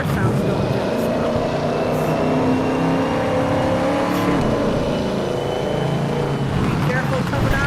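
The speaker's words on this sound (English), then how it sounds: "I love the way the car sounds going through this stuff." Car in the FlatOut 4: Total Insanity racing game driving through slippery terrain, a steady loud engine drone with rumbling texture continuous throughout, with a voice talking over it.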